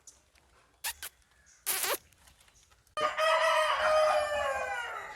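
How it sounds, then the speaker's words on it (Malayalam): A rooster lets out a long, loud crow after a few short clicks and a brief rustle, the call ringing out for over two seconds. "കോഴി തന്നെ പല തരത്തിലുണ്ട് അതിൻ്റെയൊക്കെ കൂവലും ബഹളവും എല്ലാം ഉണ്ട്"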